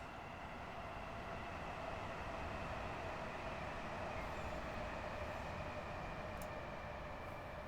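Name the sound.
train crossing a viaduct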